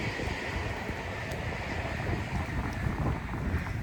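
Steady wind buffets and roars against the microphone outdoors in Japan, a continuous rushing noise with no voices.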